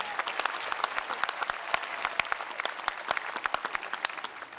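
Applause from the audience at a Class of 2020 university graduation ceremony, steady and moderately loud, with individual sharp claps standing out against a continuous wash of clapping.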